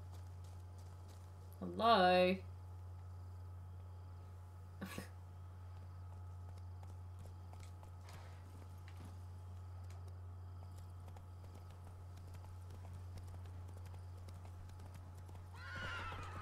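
Geralt's horse Roach in The Witcher 3: Wild Hunt – Blood and Wine gives one short whinny near the start, followed by faint hoof clops over a quiet ambient hum; a voice briefly calls out.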